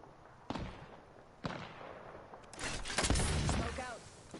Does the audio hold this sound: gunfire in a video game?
yes